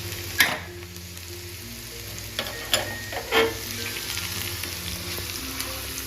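Tadka of mustard seeds, curry leaves and asafoetida sizzles in hot oil, a steady frying hiss broken by several sharp pops and crackles, close up with no talking.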